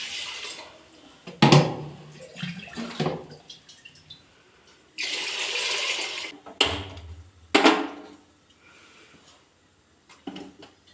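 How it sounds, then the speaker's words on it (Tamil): Water splashes into a cooking pot in bursts, with a longer steady pour in the middle, as a litre is added for cooking dal for pongal and brinjal gothsu in a home kitchen. "1 லிட்டர் தண்ணி வைக்கிறேன்."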